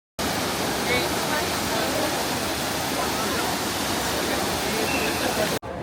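The water of the Trevi Fountain in Rome pours and splashes in a constant, broad rush, loud and close with no pause until a brief cut near the end.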